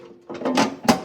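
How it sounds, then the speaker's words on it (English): A metal back cover slides onto a BakeMax reversible dough sheeter, a short scraping clatter with a sharper knock at the end, close and alone. "And you just put the back cover back on"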